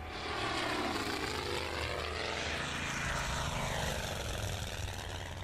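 Propeller-driven carrier aircraft taking off in the WWII strategy game Order of Battle Pacific, a steady droning engine roar with shifting tonal sweeps, fairly quiet and continuous with no talk.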